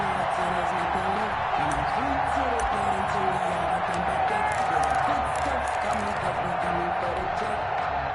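A football video game crowd roars steadily throughout, a dense continuous stadium cheer with scattered whoops and claps, heard under commentary.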